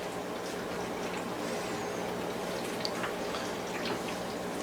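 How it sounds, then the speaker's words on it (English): Pizza dough mixture for a homemade chicken broccoli alfredo pizza is poured into a pan, a soft, steady liquid trickle with faint drips, quiet and continuous. "We're going to pour that mixture right in the middle like so"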